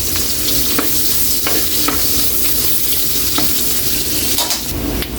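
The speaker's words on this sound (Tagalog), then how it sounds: "Unahin natin kaili ang ating luya. Igisa lang natin." Ginger sautés in a pan with a loud, constant sizzle of hot oil, broken by a few light clicks of stirring; no talking.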